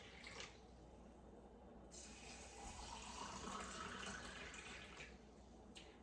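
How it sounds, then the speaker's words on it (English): Water poured into a canning jar of forbidden rice, a soft steady trickle and splash running quietly for several seconds in a home kitchen, with no talk. "I'm gonna just pour the water over into the jar to the 1-inch headspace"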